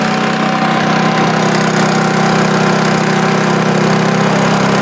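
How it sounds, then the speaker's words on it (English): An RV generator with a hole in its muffler runs steadily in the cold. The close, continuous engine drone and hum stays even throughout, with no voices. "you guys are probably curious about the generator"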